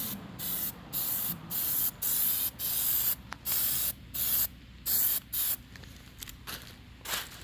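Short bursts of aerosol spray paint coating BMW 335i kidney grilles black in a chrome-to-black conversion, about ten hissing passes of roughly half a second each with brief gaps between them, close and steady.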